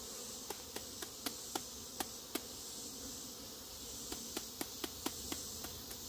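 Honeybees swarm around an opened hive on a hot day while powdered sugar is applied, a soft continuous buzz close by. Irregular sharp ticks, like tapping on the hive, punctuate it, and nobody speaks.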